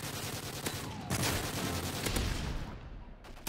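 Rapid bursts of automatic gunfire from a Modern Warfare 3 multiplayer match, loud and dense with overlapping shots over about three seconds and no talk.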